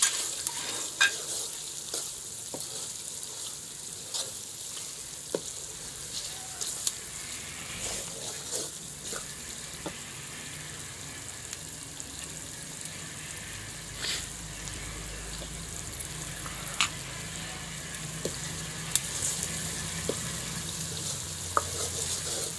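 Spices are stirred into pumpkin (maru) curry in a pan, giving a long steady frying hiss with scattered sharp clicks of a spoon against the pan and a low background rumble.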